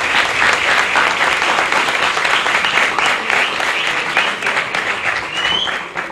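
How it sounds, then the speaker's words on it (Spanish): Sustained audience applause for Olympic athlete Hebert Viera at a talk series, a dense steady wash of many hands clapping throughout, easing slightly near the end. "y fuerte el aplauso, a Ever Viera."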